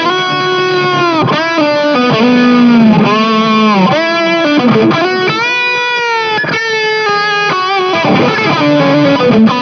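A loud, sustained distorted electric guitar lead through a Joyo UZI distortion pedal, bending and holding notes in a flowing melodic line with reverb and delay, no voices.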